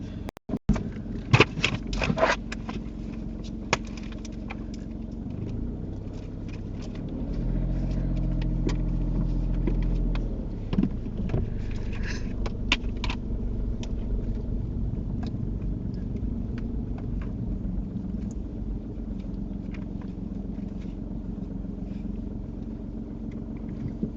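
A car engine idles and rumbles low through a reverse parking manoeuvre during a UK mock driving test, with a steadier engine swell midway and small clicks and knocks from inside the cabin.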